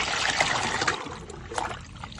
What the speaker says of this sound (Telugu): కొంచెం నీళ్ళు వేస్తున్నా